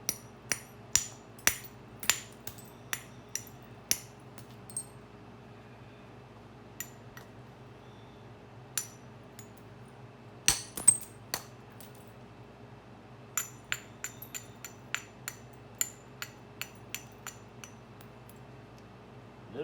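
Sharp, close copper bopper strikes on stone while flintknapping and thinning a piece, ringing clicks in scattered bursts with quiet pauses between clusters.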